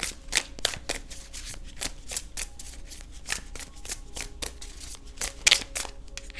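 A tarot card deck is shuffled briskly, giving a rapid run of papery riffles and flicks that is close and steady, with no voices.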